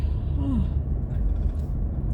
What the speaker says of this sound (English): Once I start yawning, I usually can't stop, and apparently that's the case right now.